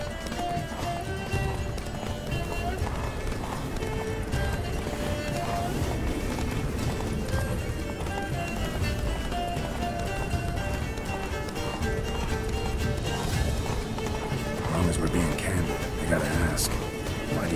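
Hooves of Roach, Geralt's horse in The Witcher 3, clatter in a fast steady gallop, loud and close, with game music and effects layered beneath.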